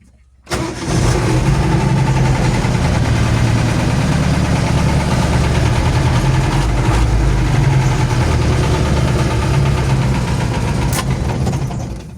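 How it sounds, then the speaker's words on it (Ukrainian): A Mercedes OM 314 diesel fitted in a GAZ 3307 truck starts up abruptly and then idles loudly and evenly from inside the cab, a dense, continuous mechanical clatter and rumble. "работа двигателя в кабине дуже, скажем так, не отличается от МТЗовского двигателя"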